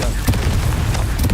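The Confringo spell goes off in the Hogwarts Legacy video game as a couple of loud booming blasts, with a voice speaking alongside them.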